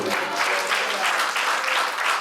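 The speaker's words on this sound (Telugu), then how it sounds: "చప్పట్లు కొట్టండి." A church congregation claps hands together, a dense, steady wash of applause filling the whole short moment at a fairly loud level.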